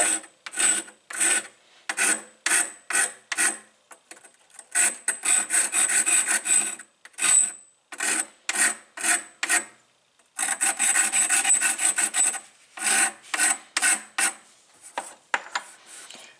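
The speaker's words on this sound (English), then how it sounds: "Then what I do is I take this little grinding stone." A small grinding stone scrapes rhythmically against a Woodmizer LT15 sawmill blade, rough rasping strokes in quick bursts with short pauses, almost like a turkey call, close and fairly loud.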